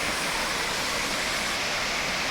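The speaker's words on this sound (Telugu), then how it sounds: "నీటి జలపాతం" A constant dense rush of water from the waterfall at Siddha Ramappa pond in Srisailam, a close, even roar with no voices.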